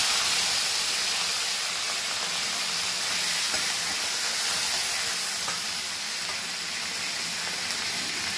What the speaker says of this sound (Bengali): এবার এটার মধ্যে আমি এই পেঁয়াজ কুচিগুলো দিয়ে দিচ্ছি।